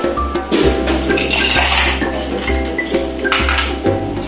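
Crushed ice is added for a cold coffee, tumbling and clattering loudly against a container with continuous clinks and rattles throughout, close by and with no speech.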